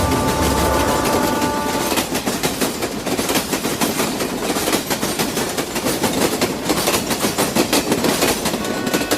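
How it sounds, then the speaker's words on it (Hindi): A train is arriving at Pune station at night, its wheels giving a loud, close, continuous rattling clatter on the rails. The sound is steady and dense throughout, with no voices. "अब उसकी ट्रेन पुणे स्टेशन पहुंची है"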